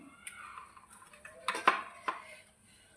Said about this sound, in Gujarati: આપણે ઇડલીને આપણે કટ કરી લઈશું આવી રીતે કાઢીને